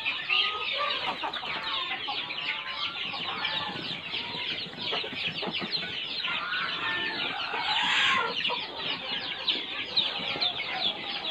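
Village chickens and young chicks on a farm keep up a dense, continuous chorus of clucking and chirping, moderately close, with no pauses and no voices.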